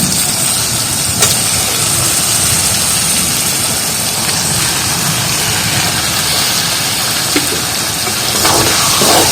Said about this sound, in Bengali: এবার দিয়ে দেবো কেটে রাখা মাংস, কেটে রাখা মাংসগুলো দিয়ে দেবো।